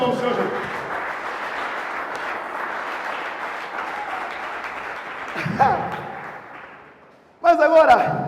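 A church congregation applauds in sustained, steady clapping that fills the room, fading briefly before a loud burst near the end, with a voice audible over it.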